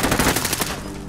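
Rapid bursts of automatic gunfire crack close and loud in the shooter game Call of Duty Modern Warfare, a short dense volley that tails off quickly.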